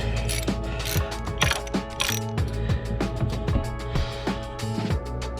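Hand ratchet tightening T30 Torx screws on the oil filter cover of a Can-Am Outlander ATV, a loud close series of rapid clicking strokes repeating in a steady rhythm throughout.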